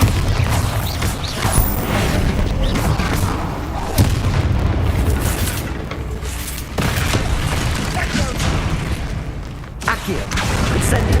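Bombarda blasting spell bursting in Hogwarts Legacy, a series of loud booming explosions with crashing impacts over roughly eleven seconds, close and dense with brief gaps between blasts.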